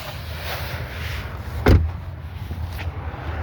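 A single sharp pop of the hood release latch on a 2014-2023 Jeep Cherokee, a brief close thunk standing out midway against a steady low background hum.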